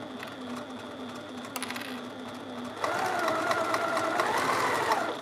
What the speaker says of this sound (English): So I'm sewing from the corner of the back to the corner of the front over here.